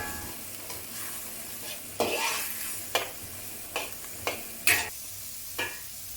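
Thai rice noodles are stir-fried in a pan over medium to high heat: a constant low sizzle, broken by six or seven sharp scraping stirs at irregular intervals, with no voices.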